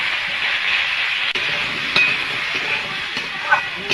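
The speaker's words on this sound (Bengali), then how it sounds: "কড়াইতে তেল রয়েছে, আমি তেলে কপিগুলো দিয়ে দেব।" Cauliflower pieces frying in oil in a kadai with salt and turmeric, stirred by hand, giving a steady close sizzle with occasional scraping clicks and clinks.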